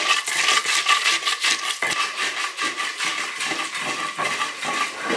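Garlic pounded in a mortar at a Mozambican food stall, a fast run of sharp, close thuds in an even rhythm with a short pause partway through, loud and with no voices over it.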